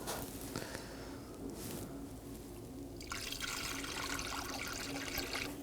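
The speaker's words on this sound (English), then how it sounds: "Now to refill our coolant" Coolant pours through a funnel into the reservoir of a 2018-2024 Chevrolet Equinox 1.5L, a continuous close liquid trickle and gurgle that swells louder partway through.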